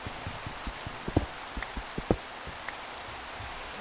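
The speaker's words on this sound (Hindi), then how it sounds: "माइनक्राफ्ट में बारिश हो तो लावा बुझ ही नहीं है" Steady soft rain falling in the Minecraft video game, a faint even hiss with scattered light droplet taps, heard alone without talk.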